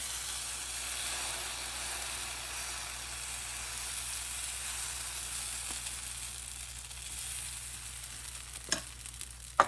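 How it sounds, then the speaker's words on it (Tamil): Adai batter poured onto a hot dosa griddle, giving a steady, faint sizzle and hiss that runs alone throughout, with a couple of small clinks near the end. "இப்போ நான் மாவு விட போகிறேன்."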